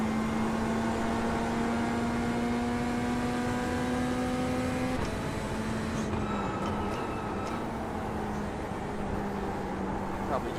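A Corvette race car in iRacing hums with a steady engine tone that holds pitch, drops after a shift midway, then settles again, a constant drone under faint background noise.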